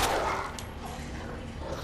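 Dogs barking in the survival horror game Resident Evil 2, a sharp bark up front followed by fainter growling and ambient game noise.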